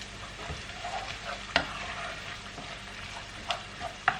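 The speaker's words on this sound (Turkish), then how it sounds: "Sarımsağı da hemen atayım da içine. Beraber kavrulsun." Four cloves of garlic sauté in a pan for a spinach dish, giving a low, even sizzle with a few sharp spatula clacks against the pan, and no voices.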